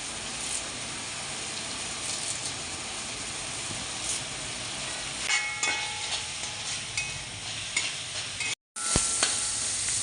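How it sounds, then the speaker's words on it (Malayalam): Curry leaves sizzling in hot oil in a pan for Kerala fish curry, a continuous crackling fry with stirring scrapes and a brief cut-out near the end. "ഇച്ചിരി കറിവേപ്പിലയും കൂടി ഇട്ട് കൊടുക്കാം."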